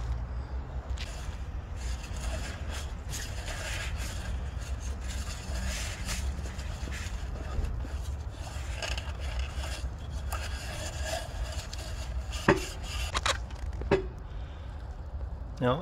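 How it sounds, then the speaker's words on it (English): Wiping and scrubbing old dirty oil out of a car's oil filter housing: continuous close rubbing and scraping with a few sharper knocks near the end, steady and moderately quiet. "Now I am gonna clean this housing as much as possible to clean the old dirty oil."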